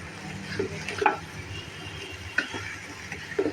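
Rice with peas and potatoes frying in a pan for chicken biryani sizzles softly and steadily, with a few sharp clinks of a spoon against the pan as it is stirred.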